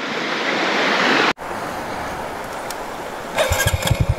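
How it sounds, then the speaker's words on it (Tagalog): Water flowing in a river at a free campsite, a steady broadband rush with a brief cut near the start and some louder splashing surges toward the end. "Itong agos ng tubig na to."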